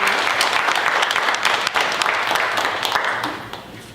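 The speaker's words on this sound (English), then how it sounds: "Let's give him a round of applause as he walks in." A room audience applauds a panelist walking in at a faith-focused panel event, dense sustained clapping close and loud that tapers off slightly toward the end, with a few voices mixed in.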